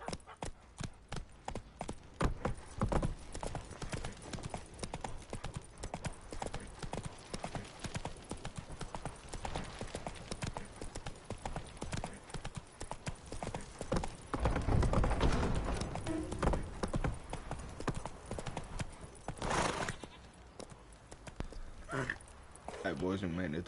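Roach, Geralt's horse in The Witcher 3: Wild Hunt on PS5, gallops in a steady clip-clop of hoofbeats throughout, with game music and effects beneath and someone talking over it.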